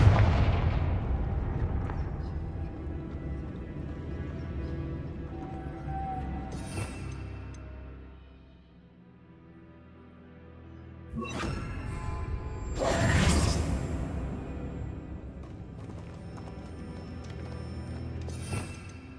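Confringo fire spells blast in Hogwarts Legacy, several loud explosive bursts with whooshing tails over a low rumbling background, including a brief quiet lull before two strong blasts later on.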